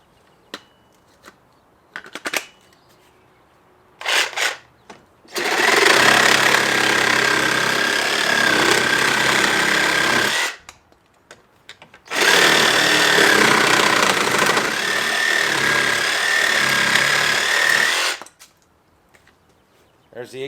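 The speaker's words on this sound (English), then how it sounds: "let me just do a couple cuts with the Sawzall" A Dewalt 18 volt DC385 cordless reciprocating saw makes two long, loud, steady cuts of several seconds each, close up and buzzing harshly, with scattered clicks and handling knocks before and between the cuts.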